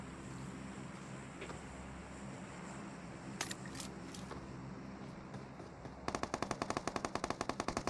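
Rapid automatic gunfire in PUBG Mobile breaks out after a stretch of engine-like droning and wind noise. A fast, sharp string of shots starts near the end, with a few scattered cracks earlier.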